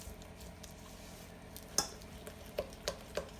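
Cornbread mixture being stirred in a bowl, faint soft scraping with a few light clicks of a utensil against the bowl, close and quiet.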